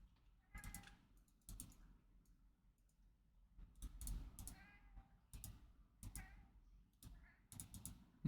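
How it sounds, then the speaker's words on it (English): Pet cat meowing several times in a quiet indoor room, the short voiced calls spaced irregularly between light keyboard clicking, fairly close and moderately loud. "I'm not sure if you guys can hear my cat."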